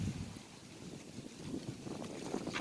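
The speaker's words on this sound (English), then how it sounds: "wind picking up" Gusty outdoor wind at an archery range, a quiet low rumble of air buffeting the microphone that builds slightly toward the end.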